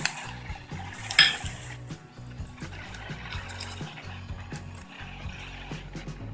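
Spoon stirring fried chickpea and potato chaat in a bowl, with repeated clinks and scraping of utensil against the dish in a steady irregular rhythm, close by with no talking.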